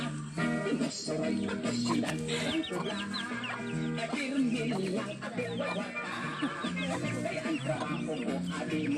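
Chickens cluck and chatter continuously, a busy flock heard close up with overlapping calls and an occasional rooster-like cry.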